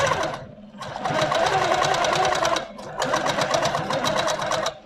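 An Amara quilting machine stitches in cruise setting with a fast, rhythmic mechanical whir that runs in two long bursts separated by a brief slowdown, close and loud.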